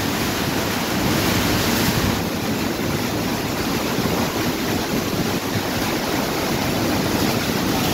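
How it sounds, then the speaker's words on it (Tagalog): Sea surf roars along the shore during Typhoon Opong, heard from about 20 meters away as a steady, loud, wind-blown rush of breaking waves with no voices over it. "Ayun, dagat na yan dyan oh."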